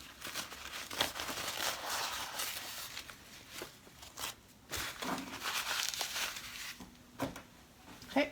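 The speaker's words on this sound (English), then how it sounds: "Now I take the tearaway stabilizer off, so I'm just going to tear it all the way around" Tearaway embroidery stabilizer being ripped off around an in-the-hoop zipper pocket bag: repeated close papery tearing and crinkling rustles in uneven bursts, with no voices.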